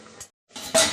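A metal lid is set down onto a cooking pot of fish curry with potatoes on a gas stove, giving one short bright clink after a brief rattle and a moment of quiet.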